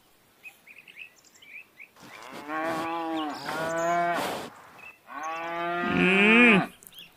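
Cartoon cows moo in three long, drawn-out calls, loud and close, following a few faint bird chirps at the start.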